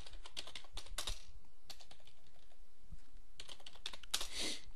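Quick, uneven bursts of clicking keys on a computer keyboard, close and fairly quiet, with short pauses between runs of typing and no voices.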